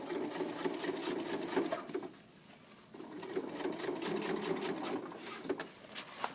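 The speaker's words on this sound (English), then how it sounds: "And you're going to sew a straight stitch all the way around to where you started" A sewing machine runs a straight stitch through fabric for a bag, its rapid motor whir steady and close, easing briefly to a pause before resuming at the same pace.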